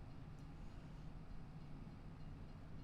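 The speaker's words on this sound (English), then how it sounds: "Oh, there comes the train." A train rumbles past in a farming video game, a steady low, muffled roll heard faintly and continuously with no voices over it.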